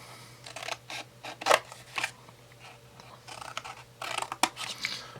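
Scissors snip through material while a homemade flash diffuser is cut from the bottom up, a run of crisp, close cuts in uneven bursts over a faint steady hum.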